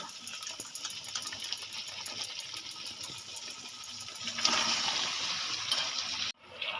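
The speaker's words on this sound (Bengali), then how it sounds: "এবার আমি দিয়ে দেবো ম্যারিনেট করা মাংস" Marinated mutton hits hot oil and paste-ground spices for a curry, setting off a steady broadband sizzle that swells louder midway, then cuts off abruptly near the end.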